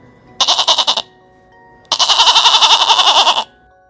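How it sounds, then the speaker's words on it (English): A goat bleats twice, close and loud, a short quavering call followed after a pause by a longer wavering one, with no other sound around it. "goat"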